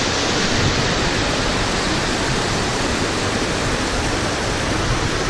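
A waterfall roars as a loud, steady, unbroken rush of water, close by and continuous, with no voices over it.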